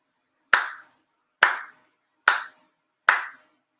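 Four crisp, evenly paced ritual hand claps at a Shinto monthly ceremony, each loud and close with a brief room decay, separated by quiet pauses, with no talking.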